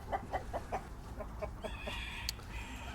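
White Faced Black Spanish chickens on an ornamental poultry farm, giving a quick run of rhythmic clucks up close. These trail into softer, more drawn-out calls over a steady low background.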